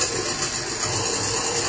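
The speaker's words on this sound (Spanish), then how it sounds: "Y acá voy a poner a batir un poquito de agua." A little water is beaten for a rompope dessert, giving a steady, close churning whoosh of agitated liquid that runs unbroken throughout.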